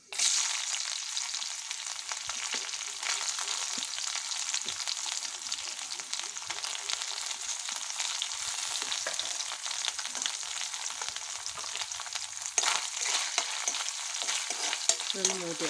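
Grated or chopped coconut pieces sizzle steadily in hot oil in a pan after mustard seeds have popped, a dense continuous frying hiss with occasional stirring scrapes, close and alone with no talking.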